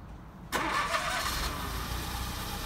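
A Smart City Coupe engine cranks and catches after a short quiet lead-in, then settles into a steady, close idle with no talk over it.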